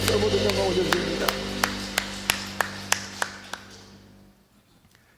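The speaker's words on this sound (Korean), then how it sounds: "우리에게 승리를 주신 하나님께 박수로 모든 영광 올려드립니다." A church congregation at a Korean Sunday worship service claps, with a blurred burst of applause giving way to slower single rhythmic claps over a sustained organ or keyboard chord that fades out.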